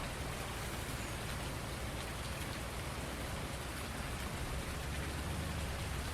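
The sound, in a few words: rainstorm, Farming Simulator 19 video game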